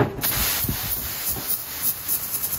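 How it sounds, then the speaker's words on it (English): Bursts of aerosol spray hissing close by on an old Jeep J10, loud and uneven, with short pauses and some rubbing noise between them. "So then I'm just going to take some aerosol"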